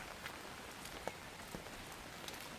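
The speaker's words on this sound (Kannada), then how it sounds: "ತುಂಬ ಮಳೆ ಮಾತ್ರ." Steady rain pours down, a dense hiss of drops hitting a surface with a few louder individual splashes, no voices.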